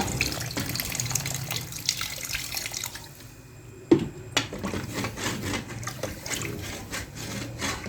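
Water pours into a pot of chicken feet curry in a home kitchen, a steady splashing and trickling stream followed by a sharp knock and softer rubbing, scraping sounds, all without talk.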